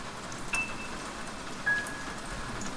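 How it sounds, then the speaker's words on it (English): Steady rain pours down in a soft, continuous hiss, fairly faint and even, with no voices present. "Rain poured down around them, and thunder shook the sky."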